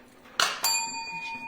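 A small bell rings twice, a soft first strike followed by a brighter ding with a long sustained ringing tone that decays slowly, close and clear with no talk.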